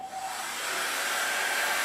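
A hair dryer blows steadily and loudly while drying hair, a continuous airy roar with a thin whine running through it, close by with no talking.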